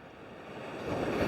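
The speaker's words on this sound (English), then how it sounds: "I'm not sure if I'm getting bites or what, or if it's a surf. It must be the surf." Sea surf on the Welsh coast, heard as a steady broadband wash of waves that swells slightly louder toward the end, with wind noise and no voices.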